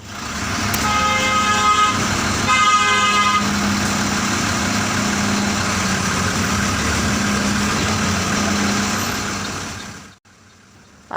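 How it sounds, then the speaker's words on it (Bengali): Mercedes-Benz F1623 bus engine running at a steady idle, a loud continuous diesel rumble close by, with horn toots near the start before the sound cuts out abruptly near the end. "ইঞ্জিন সাউন্ড আপনারা শুনতে পাচ্ছেন এটি হচ্ছে মার্সিডিস বেঞ্জ এফ ষোলো তেইশ মডেলের ইঞ্জিনের"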